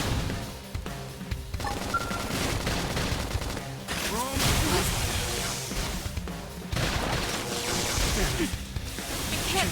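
Gunfire in the video game Xenoblade Chronicles X, loud rapid bursts running the whole time, mixed with game effects and combat callouts.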